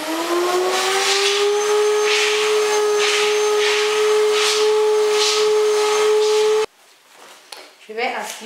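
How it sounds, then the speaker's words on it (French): Vacuum cleaner running over a sofa, with a loud steady motor whine and airy roar held close for several seconds before it abruptly cuts off, leaving quieter handling and rustling noises. "Je vais aspirer aussi le sol maintenant"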